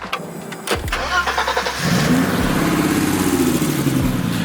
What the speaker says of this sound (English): One thing I do not like about E30s is the way the engine's bass sounds.